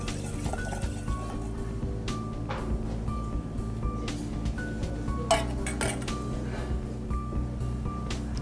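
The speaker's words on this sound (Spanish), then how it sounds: "Emulsionamos." A beet juice and truffle oil vinaigrette is whisked in a bowl, giving steady light clinks and taps of metal on a dish with some scattered sharper clanks.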